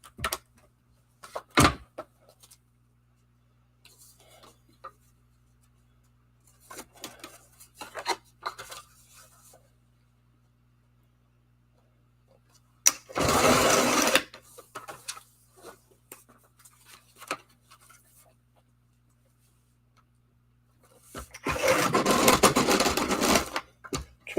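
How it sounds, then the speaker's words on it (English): A paper trimmer slicing patterned 6x6 scrapbook paper, giving two loud, close rasping cuts separated by quieter scattered handling sounds and stretches of near silence. "I still think I'll trim it because I know it's off."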